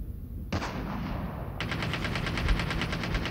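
Rapid gunfire in a battle royale video game match, a burst starting abruptly then a dense stream of repeated automatic shots, loud and continuous with no talk.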